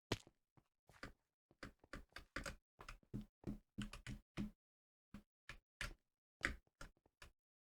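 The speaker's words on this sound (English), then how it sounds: "Clicky keyboard sounds?" Clicky computer keyboard keys tapped in quick irregular bursts of sharp, clean clicks with short gaps between groups, fairly close and on their own with no talking.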